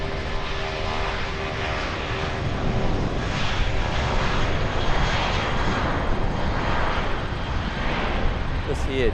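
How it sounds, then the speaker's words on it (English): A Jetstar Airbus A320-200 takes off from Auckland Airport for Wellington, its jet engines making a loud, steady, broad roar that holds throughout. "Jetstar 259 off to Wellington. Another Airbus A320-200."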